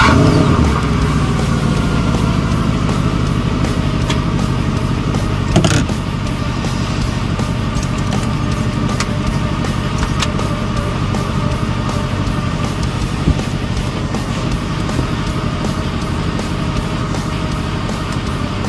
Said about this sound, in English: If you want, you can start the engine.